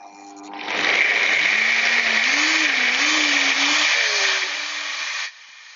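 Palak paneer sauce being blitzed in a blender, a loud close whirring roar that starts abruptly, holds steady for about four seconds, then cuts out.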